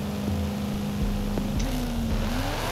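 Old school 1955 Hoonigan gasser drag car, engine droning steadily and then rising in a revving climb, loud and close over a constant low rumble.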